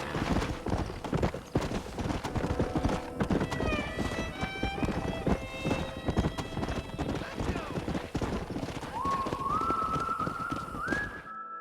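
Horses galloping in Red Dead Redemption: steady clip-clop hoofbeats running throughout, with a horse whinny and whistle-like tones on top, loud and close.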